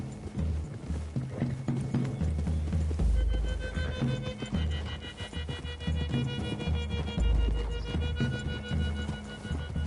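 Horses' hooves clip-clopping through woods in the video game Red Dead Redemption 2, steady rhythmic hoofbeats with tack jingling and low rumbling thuds, alongside game music and no speech.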